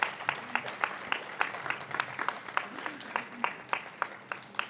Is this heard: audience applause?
yes